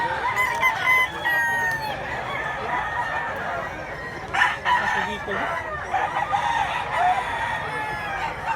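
Roosters crow at a gamefowl gathering in Mantalungon, Barili, Cebu, several loud drawn-out calls in succession close by over a busy crowd murmur.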